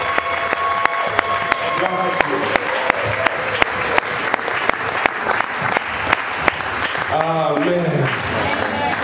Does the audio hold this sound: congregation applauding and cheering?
yes